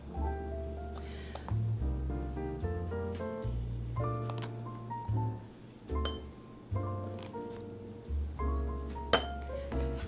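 A teaspoon clinks against drinking glasses while a tea party is being set, giving bright, ringing taps in an irregular series over about ten seconds, some strikes louder than others, with faint handling noise between them.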